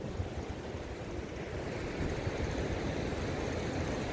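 Strong ocean surf at a beach in Pangasinan, Philippines: a steady broadband wash of breaking waves and wind, continuous and moderately loud throughout with no clear individual crashes and no voices.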